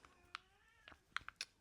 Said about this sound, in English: And of course my cat is yelling at me